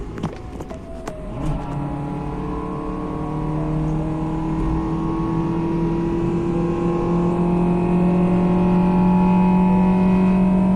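A Hyundai car with an aftermarket intake accelerates in fourth gear on a highway. A few sharp clicks come first, then a steady engine drone that climbs slowly in pitch and loudness.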